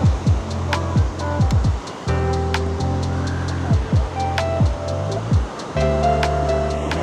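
Busy surf beach on the Gold Coast during school holidays, with steady rolling wash of waves close by and occasional louder swells, plus scattered brief sounds from the crowd.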